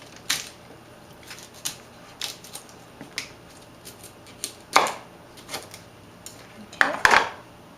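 A kitchen knife slices a cauliflower into large pieces on a board, giving a series of sharp, irregular chops and knocks, with two louder, crunchier cuts toward the end.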